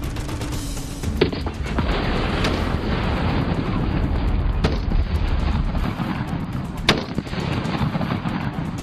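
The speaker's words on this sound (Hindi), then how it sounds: "गरज रही हैं हिंद की तोपें" Indian Army artillery cannons fire during a mountain combat exercise: heavy booming with a constant rumbling roar, punctuated by several sharp loud blasts at irregular intervals.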